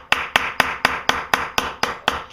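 A hammer strikes a nail into a rivet washer on leather, eight sharp, evenly spaced blows close by in a steady rhythm, with no talking.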